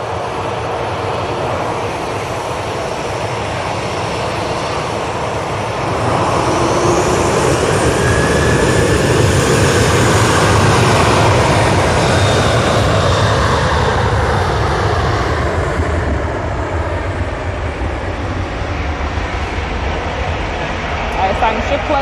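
A Ryanair airliner takes off at Manchester Airport, its engine roar broad and steady, swelling louder around the middle before easing slightly, heard from a distance outdoors with wind and people talking over it.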